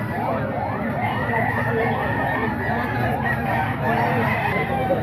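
Boston Roundhead gamecocks at a busy market, several roosters crowing repeatedly and overlapping amid a dense, noisy crowd background, with voices talking underneath.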